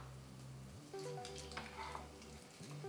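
Salmon fillets frying in two tablespoons of oil in a pan heated on medium, giving a faint, steady sizzle over a low background hum.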